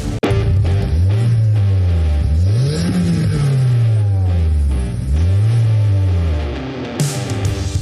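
Car engine revving repeatedly, loud and close, with the pitch climbing and falling in several distinct rises and drops across the stretch.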